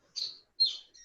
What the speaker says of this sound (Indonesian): Kalau Bu Nur Hayati masih ada suara-suara burung.